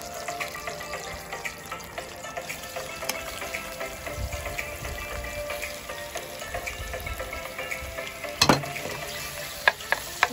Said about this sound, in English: We are sauteing the garlic.